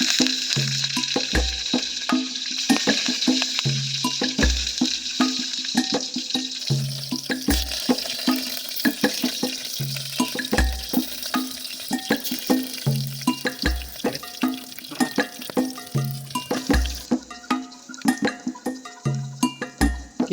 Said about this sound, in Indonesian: di sini minyaknya sudah mendidih, kita langsung mau goreng tahunya.